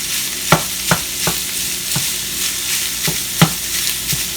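Italian sausage sizzles in olive oil in a pan while a utensil stirs and flips it, producing a rhythmic series of sharp scraping knocks every half second or so over a continuous frying hiss. No talking.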